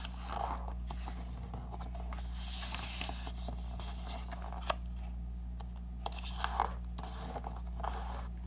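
Square 15 cm origami paper being folded toward the center, soft close crinkles, creases and light scrapes of paper against a low steady background hum, with no talking.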